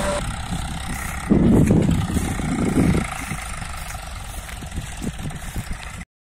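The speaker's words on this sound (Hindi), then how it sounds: "बहुत सारा ट्रैक्टर आया हुआ है" Several tractors idle at a riverside sand loading site in the early morning, a steady low engine rumble with a louder, nearer surge partway through, then settling back to a continuous idle with no talk.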